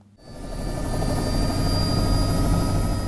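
A Mi-17V5 military helicopter flies overhead, its rotor and engine rising quickly from near silence into a loud, sustained, pulsing drone with a steady whine, no voices present.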